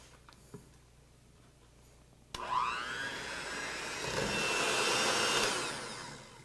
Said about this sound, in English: We're gonna use a mixer on this for 10 minutes.